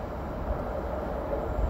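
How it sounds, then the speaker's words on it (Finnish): A low, steady rumble of an approaching Z train rolls on continuously, broad and moderately distant with no voices. "Nyt kuuluu tosta se, että juna tulee."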